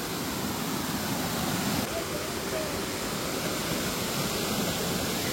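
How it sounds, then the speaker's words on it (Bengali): Hudhud waterfall at Belpahari in the early monsoon, pouring as a dense, steady roar of rushing water heard up close and unbroken. "ভিউ পয়েন্ট হুদহুদ ঝর্ণার সামনে।"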